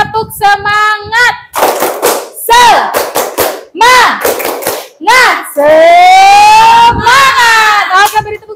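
A classroom of teachers performs a rhythmic spirit clap, with patterned claps between short chanted and spoken bursts, loud and close, ending in a sustained cheer.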